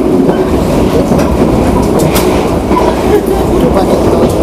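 An executive-class train travelling from Semarang Tawang to Gambir rumbles loudly and steadily inside the rocking carriage, a dense continuous roar with faint rail clatter throughout.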